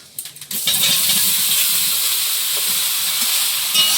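Chopped ivy gourd (torul) hits a hot pan with turmeric powder. After a brief quiet start it bursts into a loud, steady, close-up sizzle that holds to the end.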